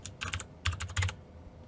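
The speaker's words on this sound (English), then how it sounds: "And just type in delete." Keys on a computer keyboard are tapped in three quick clusters of crisp clicks as a short word is typed, close and alone.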